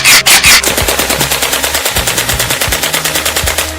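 Rapid gunfire from a firing squad rattles in a loud, close, fast automatic burst that continues evenly throughout, with a few heavier shots at the start.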